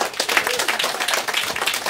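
Live studio audience applauding a musician, dense steady clapping from a nearby crowd that carries through the whole short stretch without a break.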